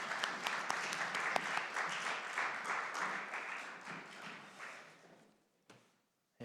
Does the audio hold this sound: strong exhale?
no